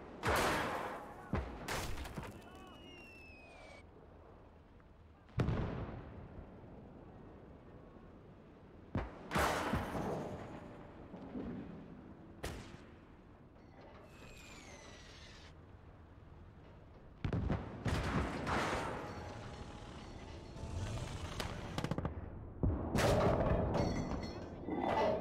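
High-explosive artillery rounds firing in the Gates of Hell war game, with sharp loud blasts at irregular intervals, some in quick pairs, each trailing off into rumbling battlefield ambience.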